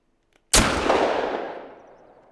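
A single rifle shot fired at a cow in The Hunter: Call of the Wild cracks sharply out of near silence, then rolls away in a long echoing tail that fades over about two seconds.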